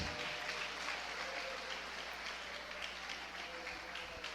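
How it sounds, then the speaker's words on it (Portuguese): A church congregation applauds in a faint, dense, even patter that continues without a break, heard from a distance with no talking over it. "Fica ao seu critério aplaudir a Jesus."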